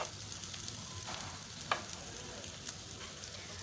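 Aloo chapli kababs fry in oil over a low flame, a steady soft sizzle with a few small pops and light stirring clicks, close and gentle, without talk.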